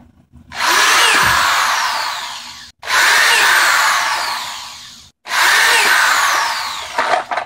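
A power drill drives drywall screws into wood in a home shop, with three long, loud whining runs that each rise and slow, separated by brief pauses.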